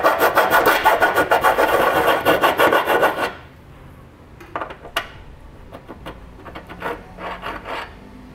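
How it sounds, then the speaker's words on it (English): A new hand file rasps back and forth on the metal around an access hole in a trailer hitch mounting point, enlarging it into a keyhole slot: fast, loud rhythmic strokes for three seconds, then scattered quieter scrapes and taps. "What you can do is use a file. I've got a nice new file here, and just make a keyhole slot for it."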